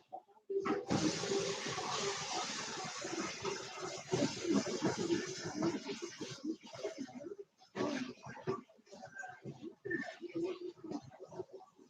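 Water running steadily while something is rinsed off, a loud broad rushing gush lasting most of the stretch with a brief break near the end, no talk over it.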